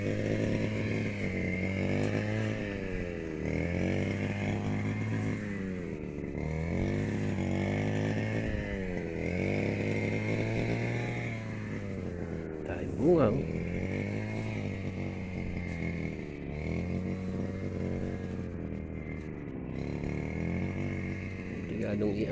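String trimmer cutting grass in a string bean field, a continuous revving two-stroke drone rising and falling in repeated swells, close and loud, with people talking over it.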